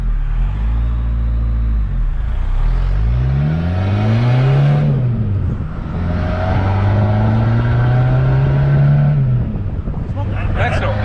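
A Suzuki Vitara with a swapped-in 2.1 turbo-diesel engine accelerates on the road, its engine note climbing steadily through the gears with brief dips at each shift, loud and close throughout.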